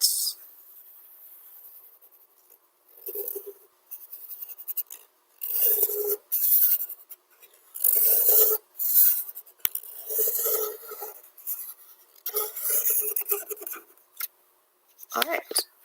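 A pencil traces around a hand on a sheet of paper, making bursts of scratchy, rasping strokes with short pauses between them, close and fairly clear.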